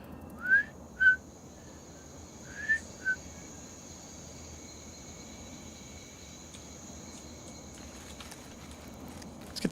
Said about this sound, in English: Do I hear whistling?